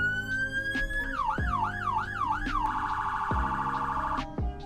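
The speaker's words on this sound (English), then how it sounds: "And we also have our sirens." Wailing siren from a 2019 Falcon Scavenger sheriff car in the video game Greenville, cycling through a rising-falling wail and then a fast yelp pattern, loud and continuous, with short engine or horn bursts underneath.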